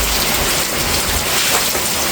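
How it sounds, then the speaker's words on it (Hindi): Heavy monsoon rain pours steadily during the rainy season, a dense, continuous hiss of downpour on surfaces with no pauses across the whole stretch. "मेरे बाबा देखिए पहले बारिश इतनी तेज वाली हो रही है,"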